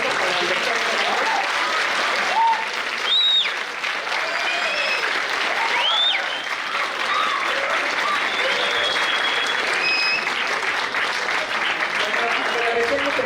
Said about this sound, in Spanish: Un aplauso para el doctor Fernández.